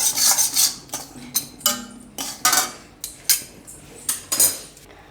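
A utensil stirs ragi flour in a hot pan, producing a series of scraping, clinking strokes in an irregular rhythm, close and fairly loud, with no voices.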